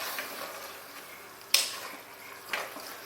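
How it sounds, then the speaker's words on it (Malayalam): Coconut milk simmers in a pan of chicken curry with a soft, steady sizzle, broken by two brief scrapes of a spoon stirring against the pot, faint and close. "ഞാനിതിൽ തേങ്ങാപ്പാൽ ചേർത്ത് കൊടുക്കുകയാണ്"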